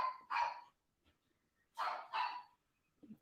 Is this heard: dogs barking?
yes